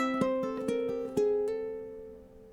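Ukulele picking the Freight Train intro, a strum followed by plucked notes and pull-offs, a handful of clear, close notes that ring out and fade at the end, with no talking.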